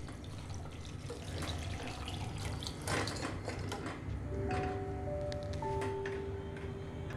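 Goat trotter (paya) soup being strained in a home kitchen, a steady wet pouring and trickling wash with faint clinks of utensils, continuous and close, no talking.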